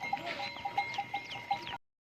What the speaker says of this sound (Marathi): हजारो गायी आहेत.